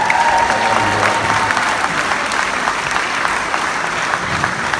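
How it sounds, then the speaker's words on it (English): An audience at a gala awards event claps in a dense, sustained round of applause throughout, with faint crowd murmur and a brief voice near the start. "let's give them all a round of applause"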